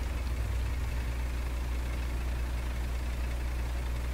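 A truck engine idles in the video game SnowRunner, a steady low rumble that holds even and unbroken throughout with no voices over it.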